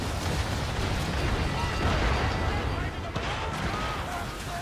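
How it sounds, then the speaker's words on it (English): Cannon fire in an Assassin's Creed 3 naval battle video game, a dense continuous rumble of distant booming blasts and roaring noise with no clear separate shots, with a voice talking over it. "You can see the cannon fire in front of me"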